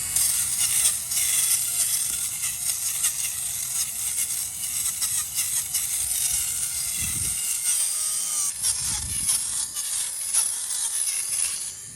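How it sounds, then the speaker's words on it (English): A Ranvoo electric lint remover runs on high while cleaning a tufted rug, giving a continuous buzzing whir with scraping, rasping strokes as it passes over the pile, steady and close for the whole time. "we're gonna go ahead and use our lint remover. So let's get that going."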